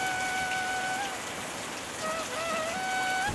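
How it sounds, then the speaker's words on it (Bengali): Rain falling in a Bengali cartoon, a steady hiss of rain on surfaces at close range, with a gentle whistling tone over it at the start and end, no voices. "আবার বৃষ্টি শুরু হয়েছে?"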